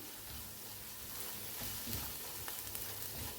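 Finely chopped garlic and onion frying in a pan, a steady, even sizzle with soft crackles and occasional stirring, close and moderately quiet with no voices.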